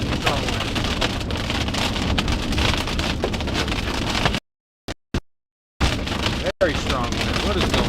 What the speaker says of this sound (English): Very strong wind. What is going on?